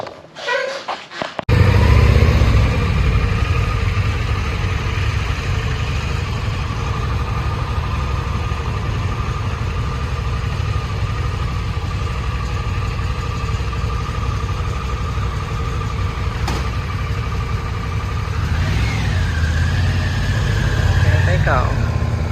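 Harley-Davidson CVO Road Glide and Pan America motorcycles idle and rumble nearby on a hot Phoenix, Arizona morning before a road trip, a steady low engine drone that runs throughout with people talking over it.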